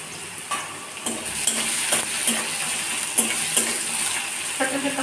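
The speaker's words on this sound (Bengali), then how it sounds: "তেলের মধ্যে 5 ফোড়ন দিলাম, আলুগুলো একটু কষে নিলাম" Potatoes stir-fried in oil with five-spice seeds for a Bengali dish, a steady close sizzle broken by repeated scraping and stirring clinks of a utensil against the pan.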